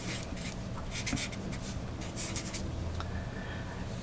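A pen or pencil writing out a number by hand on paper, a soft, continuous scratchy scribble of quick strokes lasting about four seconds, close and fairly quiet, with no talk over it.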